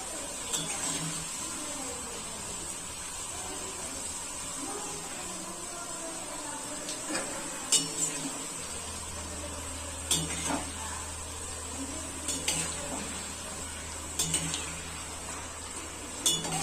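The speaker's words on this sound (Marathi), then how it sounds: "हे नमकीनला आपल्याला सारखं हलवत राहायचंय" Namkeen snack frying in a pan for Diwali is stirred with a metal utensil, giving sparse sharp clinks against the pan over a soft, steady background hiss.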